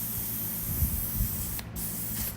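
A can of spray foundation hisses in a steady, loud continuous burst, near and unbroken, with a soft rumble of blowing fan air underneath.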